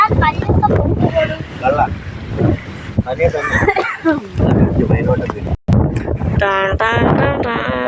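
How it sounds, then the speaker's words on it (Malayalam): Strong wind gusting across a hilltop near a hill temple, rumbling and buffeting loudly and close throughout, with a person talking over it and one brief dropout. "നല്ല കാറ്റ് കേട്ടോ."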